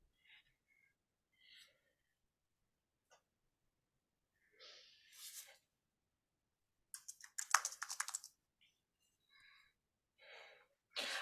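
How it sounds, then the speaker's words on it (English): Computer keyboard typing in short bursts of clicks, a cluster of rapid keystrokes in the middle and scattered taps around it, close and fairly quiet with no talking. "I keep typing in chat when I'm trying to do GPT, and I'm keep typing in GPT."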